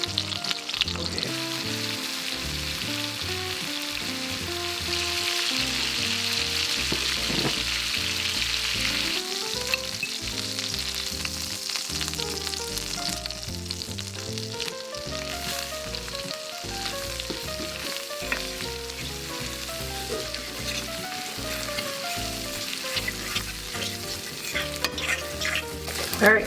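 Flour-coated chicken breast frying in oil in a pan for garlic butter chicken, a steady loud sizzle with stirring and crackle that runs unbroken throughout, no talking.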